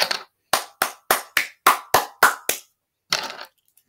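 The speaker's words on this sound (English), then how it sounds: "So give a round of applause to my dad." A single person claps hands at home nine times in a steady, fairly quick rhythm, close and crisp, followed by a short scrappy burst of clapping and then silence.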